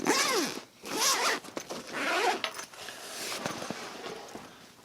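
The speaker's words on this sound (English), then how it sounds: "Let's open the main compartment." A zipper is pulled open along the main compartment of a motorcycle sissy bar backpack, giving several quick, close rasping strokes with brief pauses and no talk.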